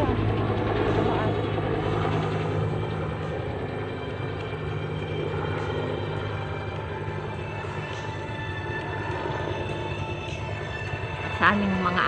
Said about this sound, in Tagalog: Helicopter. Tumaan.